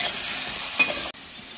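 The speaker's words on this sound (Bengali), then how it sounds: "আলুগুলো ছোটো ছোটো করে কিউব করে রেখেছি, আলুগুলো ভাজতে দিয়ে দিলাম" Small cubed potatoes frying in a pan with salt and turmeric, a continuous close sizzle with a brief stirring clink, then a sudden cut to a quieter, duller hiss.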